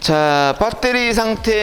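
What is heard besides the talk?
No everyday noise stands out behind the speech.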